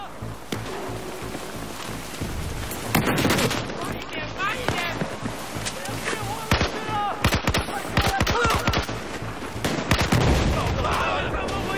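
Bursts of gunfire in the Battlefield 4 campaign, with sharp repeated shots and volleys landing close and loud through most of the stretch over a low engine-like rumble, with a voice in places.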